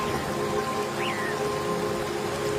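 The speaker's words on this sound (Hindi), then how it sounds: "पता नहीं ये बारिश कब रुकेगी।" Steady rain pours continuously in a children's cartoon story about a forest, a dense, even hiss of drops on surfaces with a faint chirp briefly rising through it.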